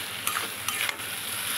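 Pointed gourd stuffing made with paneer and potato is stirred in a pan over heat, giving a steady faint sizzle broken by a few soft scrapes of the spoon. No one speaks.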